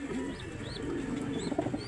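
Pigeons kept by a breeder coo close by in soft, repeated throaty phrases, with faint chirps rising over the low murmuring calls.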